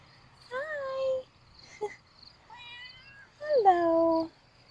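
A pet cat meowing nearby in a garden, three separate drawn-out meows with short pauses between them, the last the loudest.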